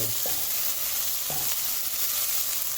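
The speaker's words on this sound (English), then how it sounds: "So I just have a little garlic, red bell pepper, and a scallion. I'm just gonna saute this." Garlic, red bell pepper and scallion sauté in a hot pan for a creamy jerk chicken pasta, a loud continuous sizzle close up with two soft scrapes of stirring, no voices.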